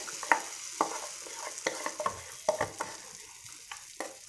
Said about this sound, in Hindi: ये जो बैटर हमने मिक्स किया है इसको एक बार और हल्के से इस तरह से फेंट लीजिए और इसमें डाल देना है